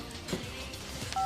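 A few quick electronic keypad tones from dialing a borrowed cell phone, short beeps spaced unevenly with a clearer tone at the end, fairly quiet in a still room.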